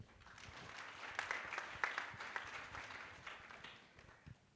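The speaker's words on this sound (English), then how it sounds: "let's clap for Ajay" Applause from a keynote audience at a corporate venture capital event in Tanzania, a fairly quiet, steady patter of many hands clapping at a distance for a few seconds, with faint voices mixed in.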